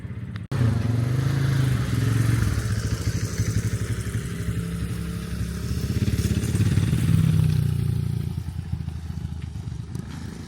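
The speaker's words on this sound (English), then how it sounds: "Some motorcycles incoming." Motorcycle engines rumble close by for the whole stretch, droning low and steady, swelling as bikes pass and then pulling away.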